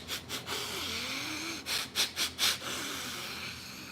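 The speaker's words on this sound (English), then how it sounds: "And then breathe in very, very deeply." Deep breaths drawn in to smell freshly crushed mugwort: a few soft, close exhales, then a series of short, strong sniffing inhalations in quick succession, with no talking.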